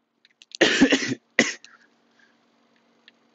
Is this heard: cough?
yes